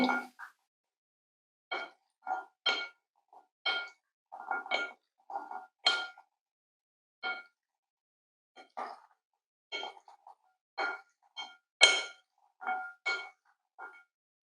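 Chickpea noodle salad with sauce and green coriander being tossed in a bowl, a series of intermittent clinks and taps of utensil against dish separated by short pauses.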